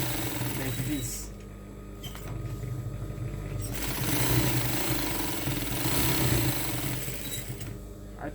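Sewing machine stitching fabric in a tailoring shop, a loud, continuous rapid mechanical chatter close by, with people talking over it.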